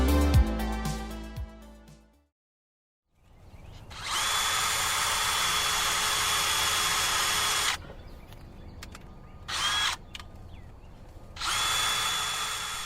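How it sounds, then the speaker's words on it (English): Landscape architecture students drive screws with cordless drills while building a bee house, several long loud whirring bursts with short pauses between them, following a brief musical sting and a moment of silence. "You're listening to landscape architecture students, hard at work with drills and screws."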